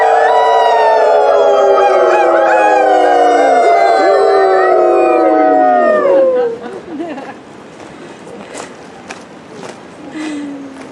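Gathered at a neighborhood memorial, a group of people howl in imitation of wolves, a loud chorus of long wavering voices lasting about six seconds, then fading into murmuring and scattered noises.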